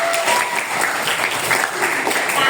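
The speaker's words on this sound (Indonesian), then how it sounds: "Tepuk tangan dulu." Steady audience clapping in a classroom-style setting, loud and continuous for a few seconds with no break, dense and close.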